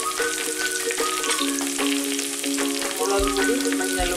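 Two sprigs of curry leaves hit hot oil with frying garlic for a fish curry, setting off a busy, crackling sizzle close by. The popping and spitting fade in and out at a steady level.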